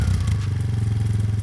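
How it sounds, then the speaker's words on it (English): A cheap quad ATV engine idles steadily, a low, even, throbbing rumble with a rapid regular pulse and slight mechanical clatter, heard up close and alone. "the engines are the same, but it's interesting that they sound in a different way"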